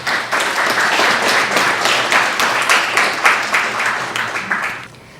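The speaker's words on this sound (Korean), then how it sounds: "큰 박수로 모셔보도록 하겠습니다" A hall audience at a Social Fam launch event gives a warm welcome with loud, fairly rhythmic clapping that carries for several seconds, then tapers off and stops abruptly.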